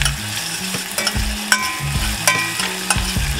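Sliced onions and granulated sugar frying in a pan for a Spam sandwich, a steady close sizzle with scraping and stirring clatter from a utensil on the pan, no voices.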